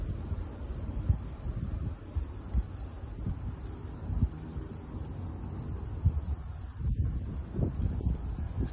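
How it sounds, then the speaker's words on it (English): Wind picks up outdoors among brush, thorny vines and falling leaves, making a steady low rumble and rushing noise with gusty swells and a few faint rustles throughout. "You hear the wind picking up?"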